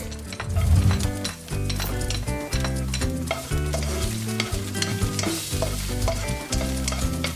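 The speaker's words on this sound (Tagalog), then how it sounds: "Lagyan lang natin ng konting olive oil lang. Bali, maggigisa tayo ng garlic." Garlic sautéing in a little olive oil in a pan gives a steady, continuous sizzle with a few stirring sounds, mixed under prominent background music for the whole stretch.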